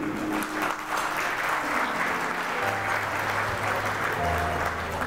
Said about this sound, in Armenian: Բարձր ծափարենք V&E production-ի տղաներին։